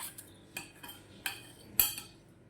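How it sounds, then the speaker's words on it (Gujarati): Boiled potatoes are mashed in a vessel for a fasting-day sago and potato tikki. A utensil knocks and scrapes against the container in four sharp, separate strikes, close and moderately loud, with quiet gaps between. "એક વાસણમાં અને હવે આપણે તેનો એકદમ છૂંદો બનાવી દઈશું"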